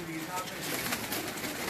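Breeder pigeons coo softly in a loft at Lalyani, a steady low murmur that runs throughout under background noise.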